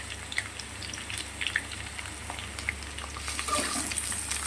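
Onion, tomato and split green chillies fry in a pan after potato and aubergine, giving a steady close sizzle with scattered crackles that grows denser near the end.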